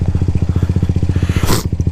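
A 125cc motorcycle engine while riding, a loud close rhythmic thrum of rapid even pulses, briefly overlaid by a short burst of wind or scraping noise.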